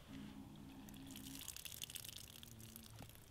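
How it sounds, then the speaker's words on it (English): Water is blown out of a LifeStraw personal water filter, a faint low hiss followed by a brief spluttering gush and trickle, quiet and alone. "When you're done, blow the water out."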